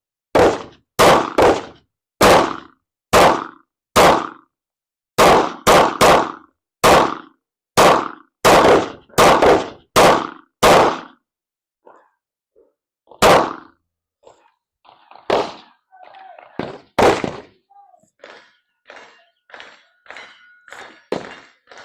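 Rifle shots ring out on a shooting range as a first magazine is emptied: a rapid string of loud, sharp reports in quick groups, then a short pause followed by more distant, scattered gunfire from other shooters.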